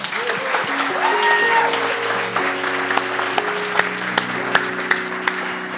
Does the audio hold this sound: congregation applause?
yes